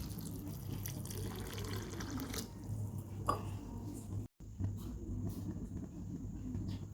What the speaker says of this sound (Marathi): त्यानंतर ये या शेंगा धुवून घेऊयात